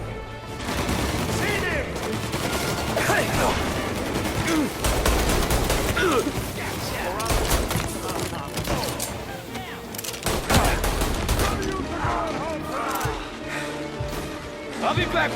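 Heavy gunfire rattles almost without pause in Mafia Definitive Edition, loud bursts and single shots stacking into a dense fusillade with booming impacts, while voices shout over the shooting.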